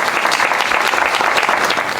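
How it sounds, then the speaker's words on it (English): Audience applause at a Black heritage celebration evening, dense continuous clapping from a crowd, loud and close, without talk. "So please give Linda a round of applause."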